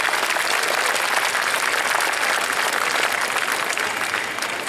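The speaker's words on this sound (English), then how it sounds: "So I would just request the crowd to give them a usual welcome. Put your hands together, please." A large audience at a panel session gives sustained, dense applause, loud and steady throughout, welcoming the speakers to the stage.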